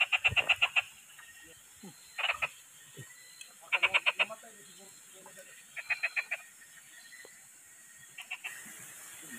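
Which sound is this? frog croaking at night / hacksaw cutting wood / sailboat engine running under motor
frog croaking at night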